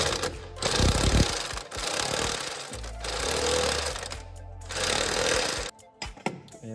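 An impact power tool drives the blade bolts on a Kubota ZD1211 diesel mower in loud close hammering bursts, several rattling runs separated by brief pauses.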